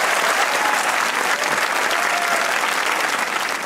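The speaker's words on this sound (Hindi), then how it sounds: "अपने लिए तालियां बजाए" A studio audience at a comedy talk show with a Pakistani cricketer as guest applauds loudly and steadily, dense clapping filling the room throughout with no break.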